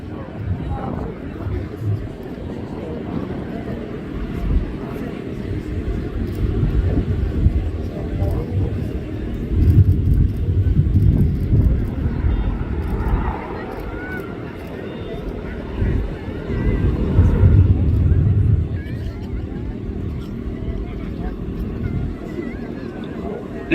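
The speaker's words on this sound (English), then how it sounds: "Now the pilot will be accelerating away from us, descending back to 500 feet, and then repositioning for another pass." A Joby S4 eVTOL aircraft flies past at the 2025 California International Air Show, a low rumbling whir that swells and fades as it passes at a distance, under steady announcer commentary.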